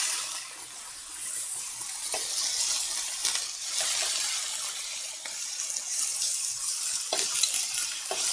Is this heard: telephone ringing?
no